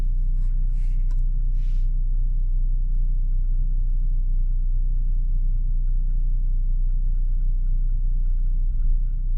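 A car engine idles with a steady low rumble throughout, warmed up to temperature while being shifted into drive, with faint light scraping noises early on and no talk.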